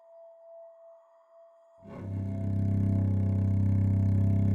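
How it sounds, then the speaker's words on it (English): A singing bowl gives a soft, steady ringing tone with a gentle wavering pulse for about two seconds. Then a loud, low, sustained bowed drone enters and covers it. "So this is me playing the singing bowl."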